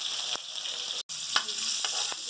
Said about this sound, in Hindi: सबसे पहले हम अदरक लहसुन को वो कर लेंगे, इसकी हीट को मारेंगे, थोड़ा सा भून लेंगे।